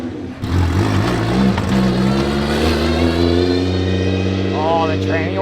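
An engine-swapped car with power steering accelerates hard, its engine note and a transmission whine rising steadily in pitch together, loud and close throughout.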